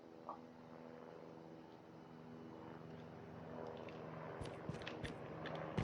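Airdrop plane passing overhead in Call of Duty, a low droning engine hum that grows steadily louder over several seconds, with game clicks and thumps near the end.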